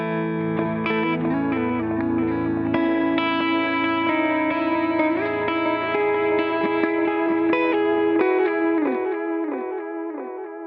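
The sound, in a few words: electric guitar through ambient multi-effect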